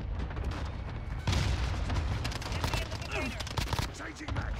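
Rapid bursts of Striker 45 gunfire in Call of Duty: Modern Warfare, dense and continuous with booming impacts layered in the game mix, loud and busy throughout.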